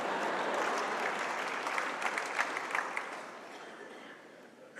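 Enthusiastic audience applause at an evening award ceremony in a hall, a dense, loud ovation of many hands that swells in the middle, then gradually fades toward the end, with no speech over it.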